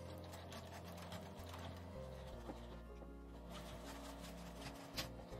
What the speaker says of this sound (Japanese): 続けて縫います。